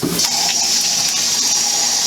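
Water splashed into a hot pan for cauliflower rice with shrimp, giving a steady loud hiss and sizzle as it bubbles up, with a broad bright rush lasting the whole moment and no talk.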